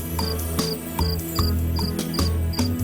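Crickets chirp at night in a steady, evenly spaced pulse of short bright trills, repeating about every 0.4 seconds over a low sustained musical drone.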